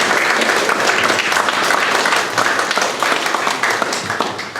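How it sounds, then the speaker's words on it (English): A public-debate audience gives the panel a full round of applause, dense and loud clapping from many hands that stays strong and then tapers slightly toward the end. "Can we give the panel a round of applause"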